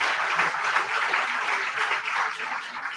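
Audience applause at a lecture on science in ancient India, a dense steady patter of many hands clapping that holds evenly throughout with no gaps.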